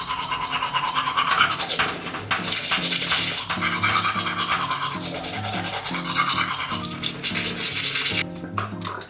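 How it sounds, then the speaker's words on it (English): Vigorous brushing of teeth with a hard toothbrush from Ghana, a continuous rough scrubbing in quick back-and-forth strokes heard up close, with soft background music underneath. "Then I use my hard toothbrush from Ghana."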